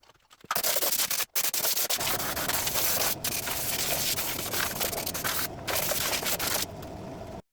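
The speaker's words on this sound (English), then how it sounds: "spray the primer on it" A spray can of primer hisses steadily in long bursts with short pauses onto a Golf MK2 GTD body panel, loud and close, with no talking.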